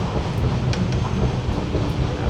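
A Konkan Railway train runs through monsoon countryside, heard from inside as a steady low rumble and rattle with faint clicks of the wheels over the track.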